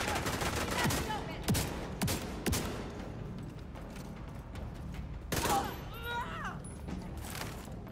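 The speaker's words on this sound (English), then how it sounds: "I think my shotgun hit his RPG" Shotgun blasts and other gunfire in the video game The Division 2 crack out as several sharp, loud shots in the first seconds, then another burst later amid ongoing combat noise, with a voice talking over it.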